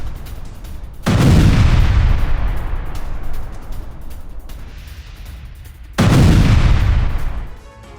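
Heavy explosions from a missile attack on a weapons depot in Mykolaiv, Ukraine, where stored missiles detonate: two loud, long booming blasts a few seconds apart, each with a rolling rumble that slowly fades. No one speaks.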